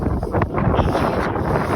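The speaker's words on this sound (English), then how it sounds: "it's windy out here, guys." Strong wind buffeting the microphone on a frozen lake during ice fishing for trout, a loud continuous roaring rumble with gusty swells throughout.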